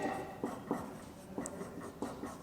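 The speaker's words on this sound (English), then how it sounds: "Now here I am going to write over here" Writing on a board during a classroom English lesson produces soft, irregular scratches and taps close by, spaced a fraction of a second apart.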